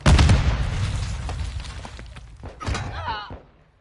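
A frag grenade detonates in Modern Warfare 2, a loud close blast at the start that decays into rumbling debris, followed by a smaller thud and some clattering effects.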